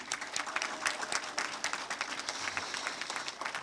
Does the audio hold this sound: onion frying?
no